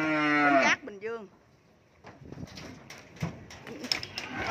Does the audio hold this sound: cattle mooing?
yes